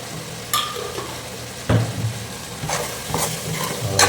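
Masala powders fry in hot oil for mutton dum biryani, a close, steady sizzle broken by several scraping stirs and clinks of a spoon against the pan.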